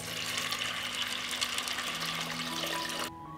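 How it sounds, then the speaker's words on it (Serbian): Cold water pours steadily from a tap over cleaned beans in a pot, a loud continuous splashing rush that cuts off abruptly near the end. "Očišćeni i opran pasulj stavljam u šerpu i preliću sa hladnom vodom."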